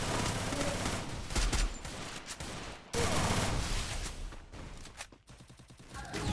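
Gunfire in the mobile shooter game Free Fire, bursts of rapid shots and fusillades broken by brief gaps, loud and dense throughout.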